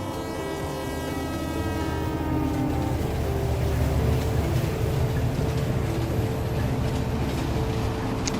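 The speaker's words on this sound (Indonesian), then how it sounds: "Suara kereta yang melintas menjadi bagian dari latar tempat ini." A train rolls past on tracks near the Kali Bekasi monument, a steady rumbling mechanical drone with tonal whine that swells and holds close throughout, no voices.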